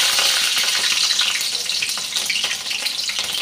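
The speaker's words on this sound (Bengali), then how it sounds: "কাঁচা লঙ্কাটা দিয়ে দিচ্ছি প্রথমে" Green chilies hit hot oil in a pan and set off loud, close, continuous sizzling and spitting that crackles steadily throughout.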